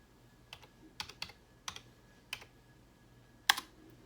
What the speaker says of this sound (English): So I type in go Zearn.